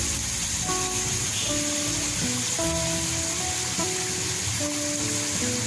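Mustard paste for hilsa fish sizzles in a pan over raised heat, a steady close hiss running throughout beneath soft background music.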